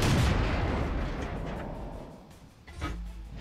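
Enemy tank fire striking the player's tank in World of Tanks: a heavy, booming impact that rolls away into a low rumble, followed by a smaller clank near the end.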